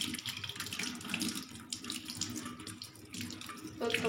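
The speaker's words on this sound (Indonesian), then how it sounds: "bilas kembali menggunakan air yang mengalir." Hands being rinsed under a running tap during clinical handwashing: a steady, close splashing of water into a sink that holds throughout, with a brief brighter surge near the end and no voices.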